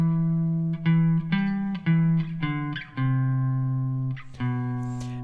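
An electric guitar plays a bluesy, swinging single-note riff that steps down the neck, with plucked notes in an uneven shuffle rhythm, some held longer, clean and close with no talking.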